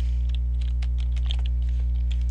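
Rapid keystrokes on a computer keyboard, clicking in an irregular stream over a steady low hum, close and moderately loud, with no voices.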